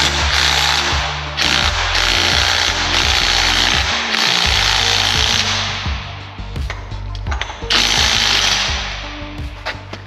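A 3/4-inch rattle gun loosening a huge nut on a Volvo TGB 13 6x6 ex-military truck, loud sustained hammering bursts with short pauses and a low droning hum, close by.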